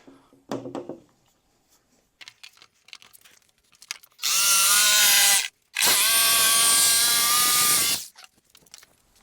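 A power tool cuts a line through a cargo box panel on a Ford F150 camper build. Two loud, sustained whining bursts with a brief pause between them follow a few quieter handling knocks.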